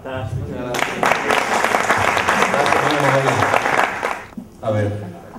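After a testimony at a product presentation, an audience applauds steadily for several seconds between short stretches of a speaker's voice before and after.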